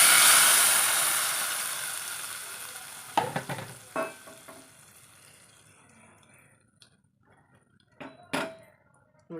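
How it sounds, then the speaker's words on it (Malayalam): Hot tempering of dried red chillies and curry leaves hits okra sambar with a loud burst of sizzling that fades over several seconds, broken by clattering spoon and pot clinks and a couple of brief later sizzles. "നമുക്കൊന്ന് ഒഴിച്ചു കൊടുക്കാം താളിച്ചത്"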